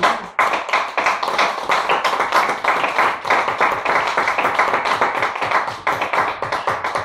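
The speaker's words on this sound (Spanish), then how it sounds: "Vamos a darle un aplauso a Dios." Sustained, dense clapping from a large church congregation fills the space, loud and continuous throughout.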